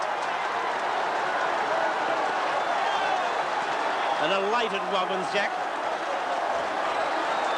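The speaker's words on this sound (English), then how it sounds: "Listen to the crowd." Crowd cheering after a goal at a 1979 Essendon versus Hawthorn Australian football match at Princes Park, a broad, sustained roar from the stands with a commentator talking over it.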